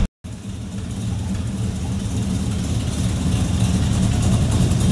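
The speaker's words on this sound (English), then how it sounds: "That idle, nice and lumpy." A small block Chevy V8 idling through Flowmaster Hushpower HP-2 moderate-sound mufflers, a loud, close, lumpy low rumble with an uneven loping pulse that starts after a brief silence and continues steadily.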